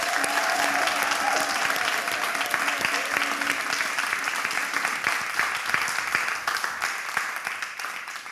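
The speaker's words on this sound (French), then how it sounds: "nous allons rendre toute la gloire à Dieu en le célébrant par des cris, par des acclamations" Church congregation applauding and cheering during a choir feature, sustained loud applause with crowd shouts that fades slightly toward the end.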